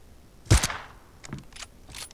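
Several gunshots from the mobile battle-royale game PUBG Mobile, aimed at heads: one loud sharp report with a low thump, then a few fainter, quicker shots trailing after it.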